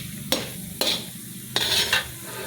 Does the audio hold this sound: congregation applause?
no